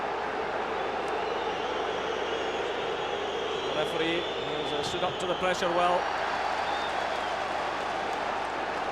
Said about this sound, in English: And everything being contested here by this big noisy home crowd.